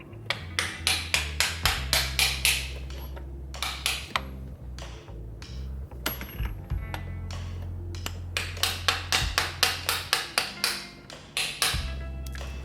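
Sharp metallic hammer taps drive a copper part into a notch, coming in quick rhythmic bursts of blows separated by short pauses, with a faint ringing hum underneath.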